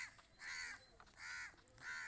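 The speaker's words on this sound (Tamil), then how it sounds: "அங்கிட்டு போங்க காக்கா" In the Roblox video game, a crow gives three evenly spaced harsh caws, each a rough drawn-out call separated by short gaps, fairly faint, with no speech.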